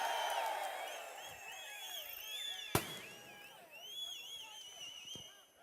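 Crowd at an AIADMK political rally cheering and whistling in a loose, rising roar, with a sharp bang partway through and the noise fading toward the end.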